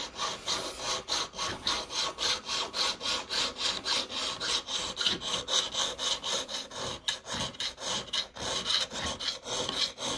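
A hand file shapes a silver coin ring in quick, even rasping strokes, a soft, close, repetitive scraping that carries on without pause and with no talk.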